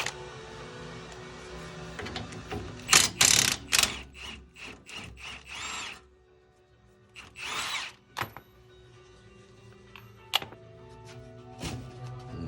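Heavy-duty tool working a 19 mm shock bolt on a Lexus IS250, a series of sharp, close rasping bursts and clicks in two clusters with quiet gaps between, no talking.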